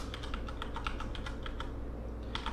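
Rapid keystrokes on a computer keyboard while writing Python code for a hangman game, a close, steady run of clicky taps with a brief pause before a final burst.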